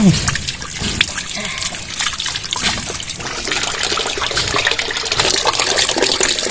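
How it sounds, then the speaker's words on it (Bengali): Cut pabda fish being washed in a bowl of water, a steady close trickle and splash of running and sloshing water throughout, with occasional clatter. "মাছ কাটা হয়ে গেছে এবার ধুতে যাচ্ছি"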